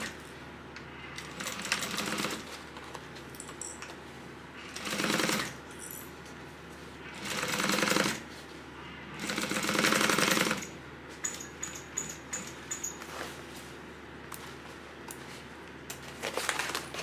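A sewing machine stitches a tote bag seam in several short bursts of rapid mechanical rattling, with quieter handling noises and pauses between runs.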